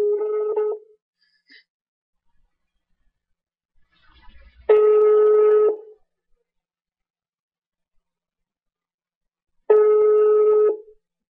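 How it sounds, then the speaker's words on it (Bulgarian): A landline telephone call being placed: three separate steady tone bursts, each about a second long, separated by long silences, with faint clicks between them, clear and close with no voices. "сега ще опитам отново да видим дали ще ми вдигнат телефона"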